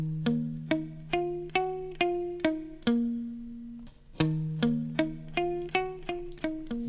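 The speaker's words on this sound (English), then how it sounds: "the original song, they use a guitar technique that is called palm muting." Palm-muted electric guitar playing the riff of a song: short, damped plucked notes in a bouncing rhythmic pattern with a sustained bass note underneath, close and clear, with no voices.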